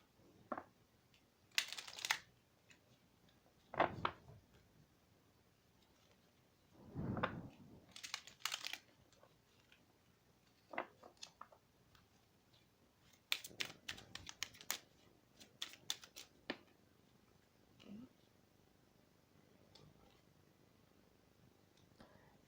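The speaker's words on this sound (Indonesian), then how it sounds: "Kemudian saya akan shuffle kartu dari Oracle Card juga" Oracle tarot cards are shuffled by hand in scattered bursts of crisp riffling and soft flutters, separated by quiet pauses.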